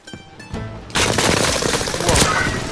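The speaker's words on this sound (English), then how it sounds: "Why is my SMG hitting so hard from that distance?" SMG fire in the video game Warzone: a sustained, loud, close burst of automatic shots that begins after a short quieter lead-in and continues to the end, with no talking over it.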